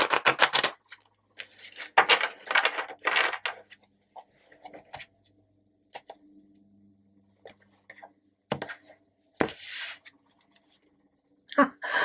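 Short bursts of papery tarot card riffling up close, a few quick flurries early then sparse taps and pauses, fairly quiet.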